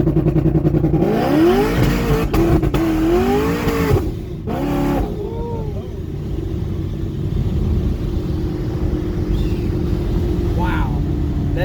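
A 1000-horsepower ProCharged Camaro SS accelerates hard with a loud, near engine roar that climbs in pitch through the gears, then settles into a lower rumble as voices speak over it.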